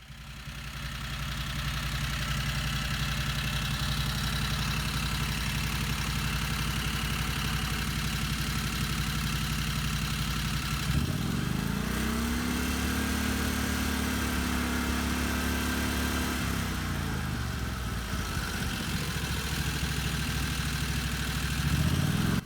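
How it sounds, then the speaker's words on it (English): A 670 Predator engine with a new exhaust and Comet 94C clutch idles steadily, then rises in pitch as it revs up for several seconds before settling back to idle; no voices. "Let's take a look at how the clutch behaves when the engine's running."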